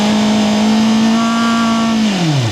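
A CFMOTO 500SR four-cylinder retro racing motorcycle engine revs up quickly with a steady, rising whine, close and loud, then falls away as the throttle is released near the end; no one speaks.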